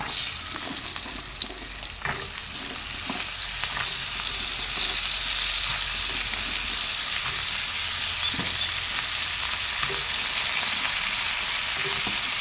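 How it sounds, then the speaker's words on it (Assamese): Chopped Indian beans fry in a hot pan with turmeric and chilli powder, giving a loud, continuous sizzle with occasional stirring scrapes throughout. "ইয়াতে এতিয়া কাটি থোৱা উৰহিখিনি দি দিম"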